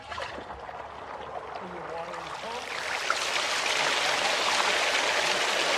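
Water pours over rocks in a backyard dry creek bed fountain, a steady splashing wash that grows louder and fuller midway and then runs on evenly, moderately close.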